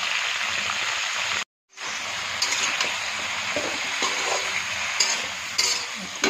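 Vegetables with salt and turmeric fry in hot oil with nigella seeds for a fish curry with potato and eggplant, giving a steady close sizzle with a brief gap and occasional stirring clatter.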